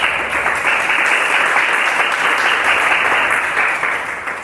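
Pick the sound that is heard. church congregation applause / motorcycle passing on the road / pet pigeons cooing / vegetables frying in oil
church congregation applause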